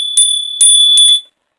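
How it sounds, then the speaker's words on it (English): A small bell is struck three times in quick succession, each strike bright and close, leaving a sustained ringing tone that cuts off abruptly. "Let me hit the bell."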